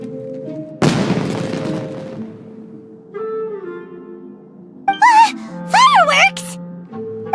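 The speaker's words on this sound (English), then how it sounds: "Was that an explosion? It sounded like fireworks." Fireworks going off in an animated scene: a sudden loud broadband burst that fades over about a second, followed later by whistling, rising pops and tones, with music underneath.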